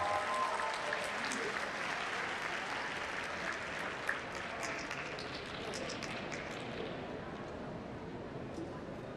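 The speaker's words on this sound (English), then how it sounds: "give another round of applause for Sukraj Putra" A conference audience claps for a speaker at a closing plenary session, a dense round of applause that gradually thins and fades over nine seconds.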